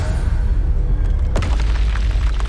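A Confringo blasting spell goes off in a video game, a single sudden boom with a sharp crack followed by a rumbling, noisy tail, loud and close against a low background drone.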